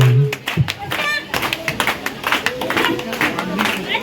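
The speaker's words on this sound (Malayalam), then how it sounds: "ഒന്നുകൂടെ നന്നായി ക്ലാപ്പ് ചെയ്തല്ലോ" Several people clap their hands in a quick, uneven burst at a birthday celebration while voices chatter and sing over it, close by and fairly loud.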